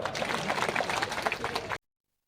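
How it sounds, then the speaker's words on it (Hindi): A crowd at a Congress party gathering claps together in a brief, dense burst. The applause is close and busy, then cuts off abruptly into silence after under two seconds. "जरा इनके लिए भी ताली बजाओ।"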